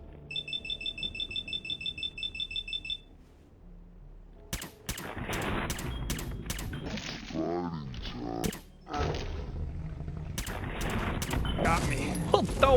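Rapid gunfire from the Fallout 4 video game, opening with a fast, evenly spaced burst of automatic shots, followed after a pause by louder, irregular shots, impacts and crashes. Speech can be heard between the shots.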